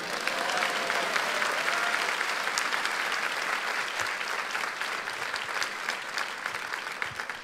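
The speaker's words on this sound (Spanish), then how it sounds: "Mándale un aplauso a la modelo." A church congregation claps for a model during a sermon, steady applause filling the room for most of the clip, then slowly thinning toward the end.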